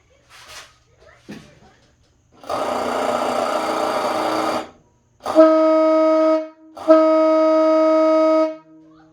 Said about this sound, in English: I will honk the horn.